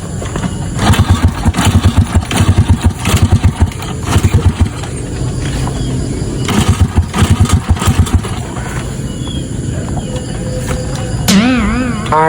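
A motorcycle engine runs close by, revving in repeated rhythmic bursts between steadier idling, with a brief high whine near the end.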